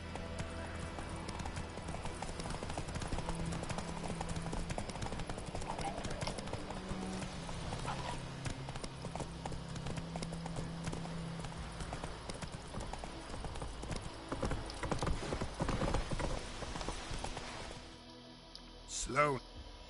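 Horse hooves clip-clop at a steady riding pace in The Witcher 3 video game, close and continuous over roughly twenty seconds, with voices talking over the hoofbeats.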